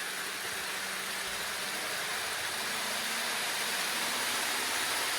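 A Dapol N gauge Midland Pullman model train runs on a polystyrene layout, giving a continuous noisy motor whir and hiss at steady loudness, fairly close, with no talking.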